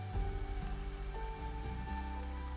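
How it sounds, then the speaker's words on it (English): Garlic sautés in a pan for chili, giving a steady, close, rain-like sizzle that runs throughout, with sustained musical tones playing over it. "Saute for 1 to 2 minutes."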